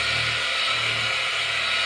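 A machine polisher buffs car paint sealant at about 2500 rpm, a steady loud whirring drone with faint low pulsing, close up and without talking.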